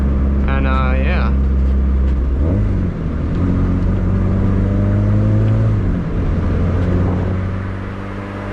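Turbocharged D16 engine in an EF hatch with a full three-inch exhaust, a loud, steady drone with rising and falling revs, nearby and continuous, with short whistly bursts early on.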